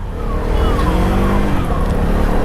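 A 2025 KTM Duke 250 motorcycle on the move, its engine droning steadily and loudly with a rising whine, mixed with wind rush and no talking.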